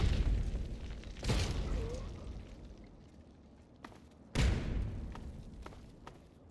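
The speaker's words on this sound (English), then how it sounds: "Stop exploding things!" Two sharp, loud explosions from Fallout 3 burst about three seconds apart, each decaying into rumbling debris, with quieter thumps and pops between them.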